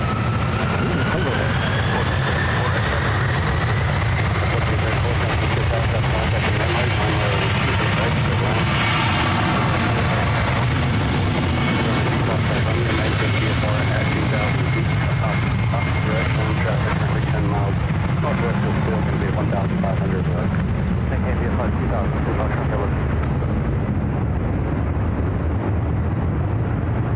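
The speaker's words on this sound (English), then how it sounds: "This is Delta Airlines 669 taking off to JFK on the 767-300ER." Delta Air Lines Boeing 767-300ER takes off from San Francisco International Airport toward JFK, a loud, sustained engine roar with a rising whine that continues throughout while people talk over it.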